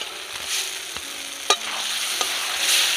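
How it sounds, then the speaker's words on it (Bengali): Fried potatoes are stirred into a spiced masala gravy for egg kosha, a loud continuous sizzle broken by sharp scrapes and taps of a spatula against the pan. "এবার আমি ভেজে রাখা আলুগুলো দিয়ে দেব"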